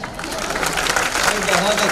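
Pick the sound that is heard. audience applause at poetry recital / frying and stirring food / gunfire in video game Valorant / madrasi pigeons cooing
audience applause at poetry recital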